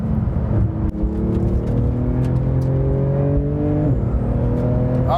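Interior engine note of a 2018 Porsche 911 with a 3.8-liter twin-turbo engine on a drive, a loud rising whine climbing steadily through the revs, a short dip at a gear change, then climbing again.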